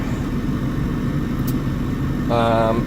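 A BMW E36 car engine idles on ice with a steady, close low rumble that runs without a break, and a brief tonal sound appears near the end.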